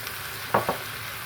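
Pumpkin and egg stir-fried in a pan, with two quick, faint scrapes of a spatula close together in an otherwise quiet kitchen and no voices.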